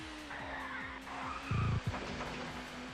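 Touring cars race around Oulton Park in the TOCA Touring Car Championship video game, engines droning steadily with rising revs, punctuated by a loud burst of tire squeal or skidding midway through.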